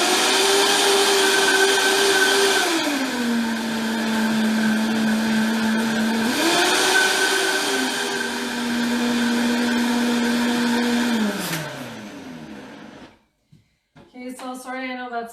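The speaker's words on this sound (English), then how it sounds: "So I'm going to blend this up and then I'm going to taste test it" A blender whirs through salad dressing, loud and close, its motor pitch dropping and rising as the load shifts over about eleven seconds. It then winds down and stops, and a person starts speaking right after.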